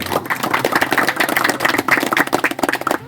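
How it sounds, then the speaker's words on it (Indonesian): A crowd at a regional council event in Kutai Timur claps for a council member, dense, even clapping held for a few seconds with no speech over it. "Tepuk tangan dulu buat beliau."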